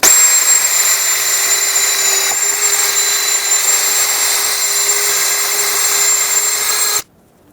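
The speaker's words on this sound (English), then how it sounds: "I'm going to use a wire wheel on a drill to clean the mounting area" A wire wheel on a power drill scours the track bar mounting area of a 2011-2016 Ford F-350, a loud, steady high-pitched whir and scrape that runs for about seven seconds, then cuts off abruptly.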